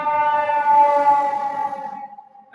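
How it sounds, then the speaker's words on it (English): Ambulance siren wailing loud and steady as it passes close by, then fading and dropping away toward the end. "here comes the ambulance on cue"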